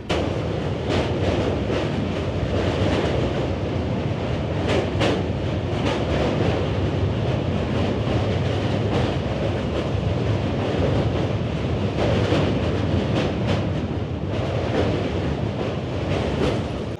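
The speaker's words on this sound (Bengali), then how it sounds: "আমাদের ট্রেন এই মুহূর্তে পার করছে গরিফা স্টেশন" The Bandhan Express between Khulna and Kolkata rolls through Garifa station, a steady loud rumble of wheels on rails with rattling carriages, continuous for the whole stretch and free of talk.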